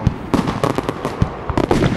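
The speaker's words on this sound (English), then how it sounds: "I might do a little more fireworks a little later on tonight" Fourth of July fireworks finale, with rapid overlapping bursts of sharp pops and crackles firing in quick succession, loud and close, with no voices.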